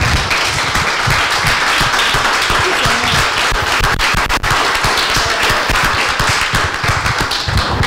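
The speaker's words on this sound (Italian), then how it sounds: "Un piccolo applauso lo vorrei dedicare a loro." Loud, dense applause from a large crowd, steady and sustained throughout with no talking.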